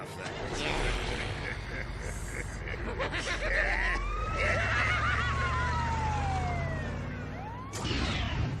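A wailing ambulance siren in a Spider-Man video game sweeps up and down over game sounds and action noise, with voices talking over it and a short burst near the end.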